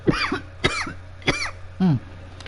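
A man coughs in four separate bursts spread over a couple of seconds, the last one longer and more voiced, close to the mic and alone over a low steady hum.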